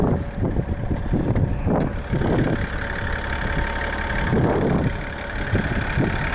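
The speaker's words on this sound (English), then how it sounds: "pop the hood so you can check out the 3-liter turbo diesel" A 2021 Chevrolet Silverado LT's 3-liter turbo diesel idles with its hood open, a steady, fairly quiet rumble heard up close with some wind buffeting on the mic.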